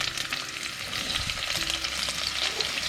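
Onions frying with whole garam masala in an Indian pan for aloo gosht, a steady close sizzle with scraping stirs, no talking.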